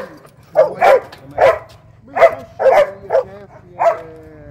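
A dog barks loudly and close by, about eight sharp barks in an uneven rhythm with short gaps between them.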